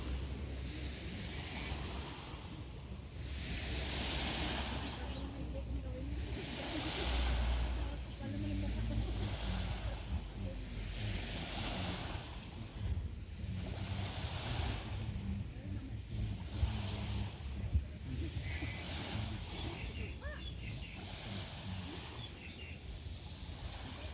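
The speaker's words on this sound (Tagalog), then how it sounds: "Ganda ng dagat." Sea waves rolling onto a beach on a cool day, a broad, rushing wash that swells and recedes in slow cycles, mixed with wind buffeting the microphone, while voices talk faintly now and then.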